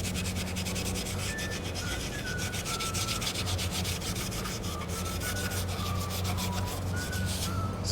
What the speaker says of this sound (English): So I'm going to step up to a little Scotch Brite.